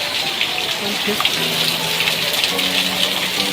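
Heavy rain pours down in Thane, India, in a steady, dense hiss, with a faint murmur of voices underneath.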